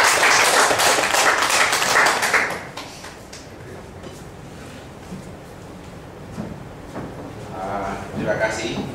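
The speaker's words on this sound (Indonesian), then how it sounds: "Tepuk tangan buat Pak Jaja." Audience applause at an Indonesian-language marketing presentation, a dense burst of clapping for the first couple of seconds that drops away, followed by quieter room noise and faint talk, with a little clapping returning near the end.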